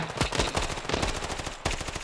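Rapid automatic gunfire from the video game Standoff rattles in fast, continuous bursts, loud and close, with a brief break before another burst.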